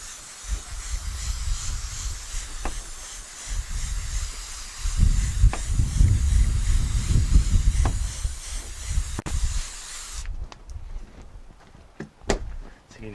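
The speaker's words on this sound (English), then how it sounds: "then we'll go with our hose and we'll mist it." Garden hose misting radish microgreen seeds: a steady airy spray hiss in short bursts, near and fairly loud, broken by brief pauses and small clicks, with no talk.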